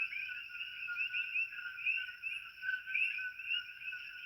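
Frogs croak and trill continuously in a night chorus on Hawaii's Big Island, high steady pulsing calls layered over one another with no voices.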